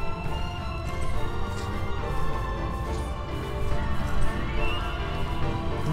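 A horse neighs and whinnies in the Shadow of the Colossus video game, set against a steady, dense game soundscape with no talk over it.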